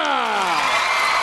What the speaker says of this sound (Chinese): 同学们，给他掌声鼓励一下